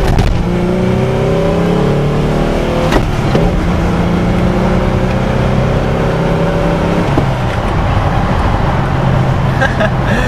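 A 1992 Ford Ranger with a 4.0 engine and small 14-inch tires revs hard in first gear, a loud, steady engine roar with climbing harmonics that shifts pitch partway through, dominating the whole stretch close to the microphone.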